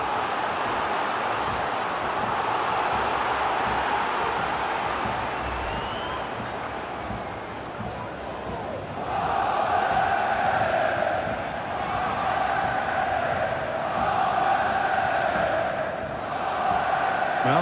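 Stadium crowd noise at the VfL Wolfsburg Arena during a FIFA 22 match of VfL Wolfsburg against RB Salzburg, a steady roar that swells louder in the second half as a corner is taken, with commentary over it.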